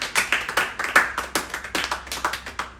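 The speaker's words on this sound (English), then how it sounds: "please give yourselves a round of applause." A small high school class gives itself a round of applause in a classroom, with sparse, distinct hand claps in an uneven rhythm from a few people. The claps are close and moderately loud, and no one speaks.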